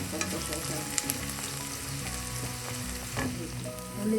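Onions frying in oil in a pan for Chicken Maharani, a steady close sizzle throughout with occasional scraping stirs and a brief louder flare near the end.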